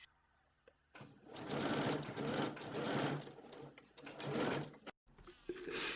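A domestic sewing machine stitches a dress bodice in two long bursts of rapid, even running, loud and close, with a brief pause between and a quiet start and stop.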